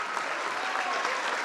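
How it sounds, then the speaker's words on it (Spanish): Diners at a club meal applaud the waitresses and cooks, a brief, even roar of many hands clapping in a room, steady and fairly loud from start to end. "vamos a pedir un fuerte aplauso para las mozas,"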